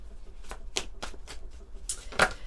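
Christmas-themed oracle cards are shuffled by hand in a quiet room: a steady run of soft, papery riffles and slaps, about five close flicks, then a brief louder burst near the end.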